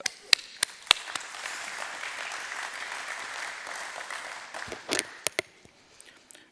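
A crowd applauds a speaker being welcomed to the stage at a Bombay Stock Exchange opening-bell ceremony, with steady sustained clapping throughout and a few sharper, closer claps standing out.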